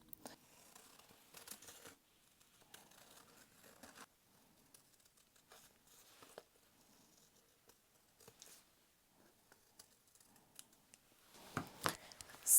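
Scissors cutting paper shapes for a journal page, heard as quiet, close snips and light paper rustles spread irregularly across a calm, near-silent room, getting a little busier toward the end.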